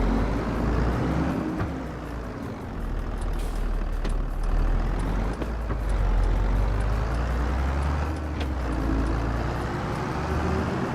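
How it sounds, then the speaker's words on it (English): A small, dirty diesel tractor engine with a manual gearbox runs steadily up close, a loud continuous low rumble with gear whine and rattling that swells and eases slightly throughout. "It's only because I like the sound of the gearbox."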